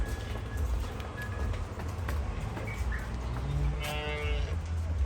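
Jersey breed cattle low and moo at a farm, a long drawn-out call rising near the end over steady low rumbling background noise, with no talk.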